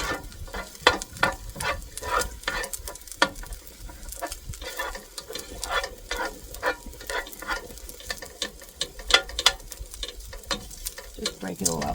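Microwave rice is stirred and broken up in a frying pan, giving a steady run of scraping, clattering utensil strokes over a continuous sizzle of frying for the whole stretch.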